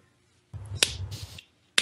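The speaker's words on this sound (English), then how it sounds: "Slow clap." Two sharp, separate hand claps spaced about a second apart, loud and close, with a brief rustle between them.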